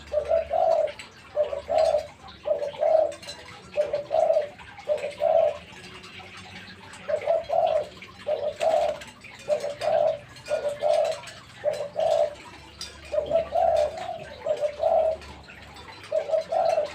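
Repeated soft cooing calls from a wild dove used as a decoy bird, delivered in steady rhythmic phrases with short pauses, fairly close and clear over faint background noise.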